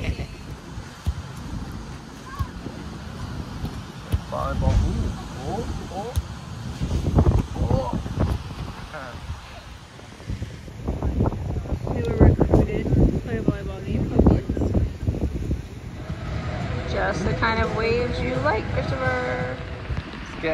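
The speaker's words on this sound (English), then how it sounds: "Getting pretty windy outside, as you can tell from the umbrella." Strong wind gusts at a beach during a Florida vacation buffet the microphone in a steady roar, with people talking throughout and faint surf underneath.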